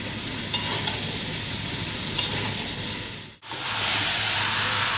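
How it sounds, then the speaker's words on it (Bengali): Mutton curry sizzling and bubbling in a pan with fried potato and papaya added, a dense continuous hiss with a few faint clicks, briefly dipping before the frying noise returns louder. "এর মধ্যে দিয়ে দিচ্ছি ভেজে রাখা আলু আর পেঁপে এবার ফুটলেই আমার ঝোল কমপ্লিট"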